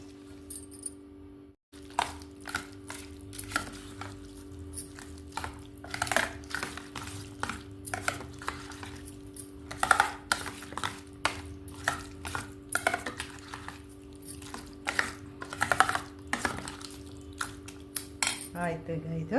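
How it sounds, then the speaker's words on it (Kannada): A spoon stirs and mixes curd rice with tempering, coriander leaves and pomegranate seeds in a metal vessel, giving repeated close clinks and scrapes in an irregular rhythm, fairly soft, with a faint steady hum behind and no talking. "ಇದೆಲ್ಲ ಮಿಕ್ಸ್ ಮಾಡ್ತೀನಿ"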